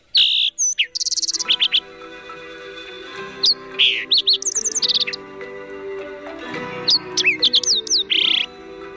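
A green-tailed towhee sings clear, loud phrases of whistles, slurred notes and rapid trills, repeated in bursts with short pauses between them, close to the listener and with nothing else heard.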